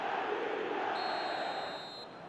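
A stadium crowd in an eFootball match roars as a broad, continuous wash of massed voices, fairly loud and steady, dipping slightly near the end while a thin high tone sits above it.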